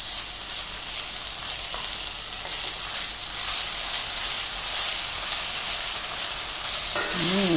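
Onions and ginger garlic paste fry in a pan with a steady, close sizzle and soft stirring scrapes, continuous and alone, with a brief voice at the very end.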